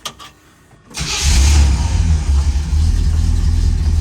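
A 1984 C4 Corvette with a modified old exhaust starts after a brief quiet pause, then settles into a loud, steady, deep rumbling idle close by.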